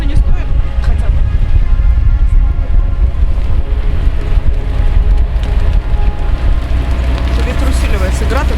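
Strong wind roars across a sailing yacht during a hailstorm, a loud, constant buffeting rush with a hissing pelting texture, filling the whole stretch, with voices talking beneath it.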